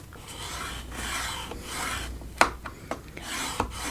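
Cardstock being scored for a Thanksgiving step card, a close dry scraping stroke followed by a few sharp clicks and taps.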